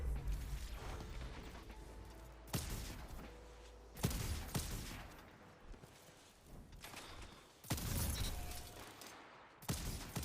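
Gunfire in a first-person shooter game: several bursts of sharp shots and impacts spaced through the clip, with mechanical clicks in between, fairly quiet and without talk.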